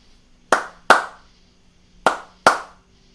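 Four sharp hand claps ring out alone in a short-long rhythm, two close together, a pause, then two more, each crisp and near with a quick decay.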